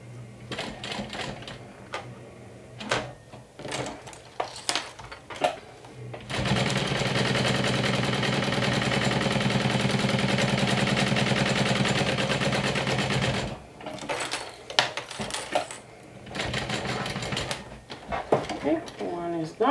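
A sewing machine stitches a crossbody bag, a steady loud mechanical whirring run of several seconds in the middle, framed by handling clatter, fabric rustling and short machine bursts before and after.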